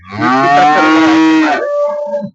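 A single loud, close moo from a Holstein Friesian (HF) cow, long and drawn out, trailing off into a lower bellow at the end.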